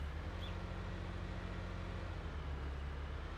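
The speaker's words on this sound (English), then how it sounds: "Very different engine sound on the Massey Ferguson compared to the New Holland." Massey Ferguson tractor engine in the Farming Simulator video game, a steady low drone with a constant hum that runs unbroken throughout, moderately quiet with no talking.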